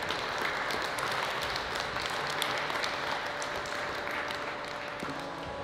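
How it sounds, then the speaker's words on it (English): After a youth basketball session, children applaud their parents in a sustained round of clapping with some cheering in a hall, steady and fairly full before tapering near the end. "can all the children give your parents a huge round of applause"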